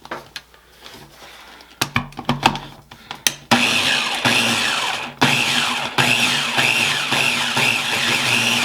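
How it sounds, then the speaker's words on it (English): Food processor pulsing scone dough ingredients including white sugar, several sharp clatters and short bursts, then a loud motor whir that runs in pulses, cutting off briefly and restarting a few times. "we're just going to pulse this a few seconds just to get everything mixed together"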